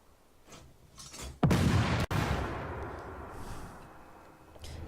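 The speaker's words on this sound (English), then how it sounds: "Artillery sounds better. Definitely those sounds are better." Artillery fire in the tank game Armored Warfare: a loud, close boom with a sharp crack, then a long rumbling decay, preceded by fainter distant shots.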